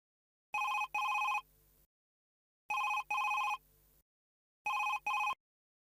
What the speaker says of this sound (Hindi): भगवान प्लीज मेरे ऊपर इतना रहम करना कि फोन पूर्वी उठाए